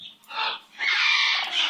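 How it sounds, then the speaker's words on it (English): A pet bird squawks and chatters in two close, loud bursts, the second longer and harsher, with no talking over it. "What a good bird."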